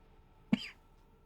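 One short, sharp cough, close and fairly quiet, set against near silence.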